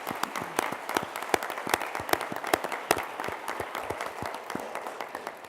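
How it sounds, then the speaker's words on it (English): An audience at a youth business competition, the CCPS Biz Challenge 2015, claps steadily, producing a dense, continuous patter of applause with no voices over it. "give them all a round of applause again"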